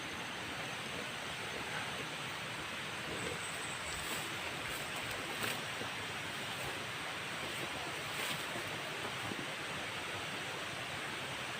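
Flowing water from a small stream below, a steady broadband rush continuing evenly throughout with faint wind noise and no speech.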